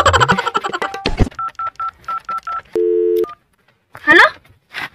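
Telephone keypad tones beep one after another in a quick run of short dialling pips, then a longer tone sounds, with a voice speaking briefly before and after.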